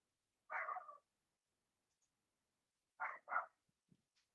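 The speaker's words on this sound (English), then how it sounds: "Every time someone walks past on our road, the dogs go ballistic." Dogs bark in the background of an indoor room, one short bark followed after a pause by two quick barks in a row, each distinct against near silence.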